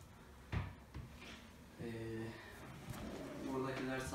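Soft-close kitchen drawers slide open and shut with a muffled knock and gentle sliding noises, close by, while someone talks over them.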